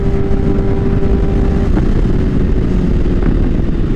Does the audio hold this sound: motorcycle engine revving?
yes